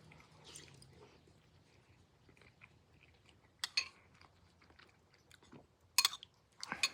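A carrot from a wood-fired chicken noodle soup being chewed up close: quiet, wet mastication with a few sharper, crunchier bites toward the end, no speech over it.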